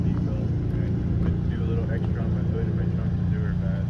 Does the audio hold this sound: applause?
no